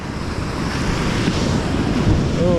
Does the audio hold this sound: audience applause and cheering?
no